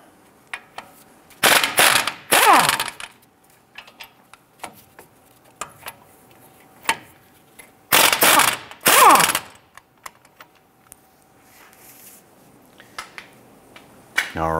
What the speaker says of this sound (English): Using a 21 millimeter socket, let's go ahead and remove the two caliper bracket bolts